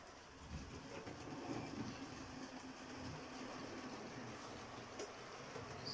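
A Q1 model railway locomotive runs around a loop layout, giving a faint, steady rolling rumble with light clicking from the track, continuous and fairly distant.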